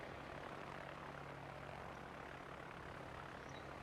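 Propeller-driven torpedo bombers in a naval warfare video game, launched from a Tier 8 aircraft carrier, give a steady, continuous droning engine roar that holds at an even level throughout.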